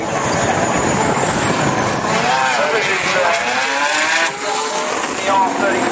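Drag racing car at Santa Pod, the lemon-coloured machine, roaring loud and close through the whole stretch with rising engine sweeps as it launches and pulls away, a crowd-like wash and talk mixed underneath.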